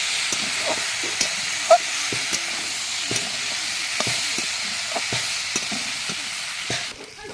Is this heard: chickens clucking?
no